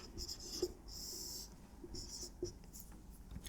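Pen or chalk handwriting an equation, quick scratchy strokes in short bursts with small taps between, close but quiet, with no talk over it.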